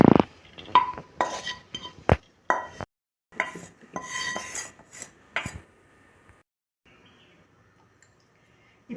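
Roasted red flattened rice is moved onto a plate with a run of close utensil clinks, scrapes and taps against metal, irregular and sharp for several seconds, then trailing off into near silence with a last faint tap.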